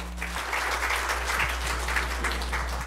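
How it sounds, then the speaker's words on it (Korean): An audience at an AI tech conference gives steady, dense applause to welcome a speaker to the stage, sustained for a few seconds over a low electrical hum, with no voices. "박수로 모시도록 하겠습니다."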